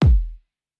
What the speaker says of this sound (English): this is from the folder Trap in the Lab, and the kick sounds like this.